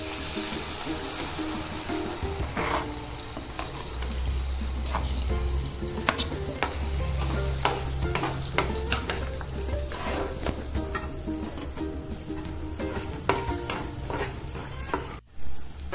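Masala paste fries in hot oil for a Telugu mutton curry, a steady sizzle broken by frequent scrapes and clinks of a spoon stirring in the pan, close and moderately loud.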